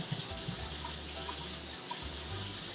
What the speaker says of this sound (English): let's just wash out the sink